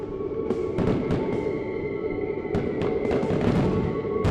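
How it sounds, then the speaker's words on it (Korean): Video game fireworks for Christmas popping and crackling in the night sky of the horror game Irony of Nightmare, repeated sharp bursts over a constant synthetic hum and steady background tone, with no voices. "동네 밤하늘에는 크리스마스를 축하하는 폭죽이 터지고 있었죠"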